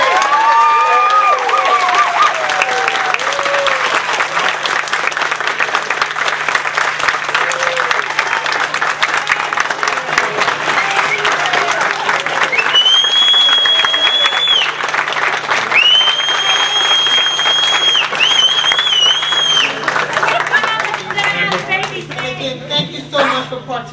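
Sustained audience applause fills a graduation ceremony hall for the whole stretch, loud and steady, with a few scattered cheers and whistles rising above the clapping near the end.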